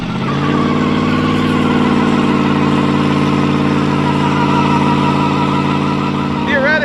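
A 1976 Dodge Dart with a 318 V8 and a 150-shot nitrous setup runs a steady, loud, rumbling engine note held close for several seconds, with a brief rise in pitch at the end.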